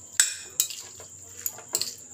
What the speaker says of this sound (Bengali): এবার এই লেবু দিয়ে খুব ভালো করে আমি চিকেনটাকে মেখে নেব।